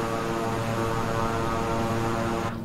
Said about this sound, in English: I'm going to let him land the plane